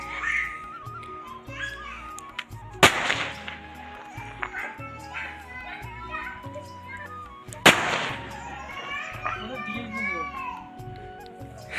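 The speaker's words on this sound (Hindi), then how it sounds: "पटाखे चल रहे हैं सभी जगह" Two sharp firecracker bangs go off, well apart, amid children's chatter and background noise, with several fainter pops in between, during a Ram celebration in India.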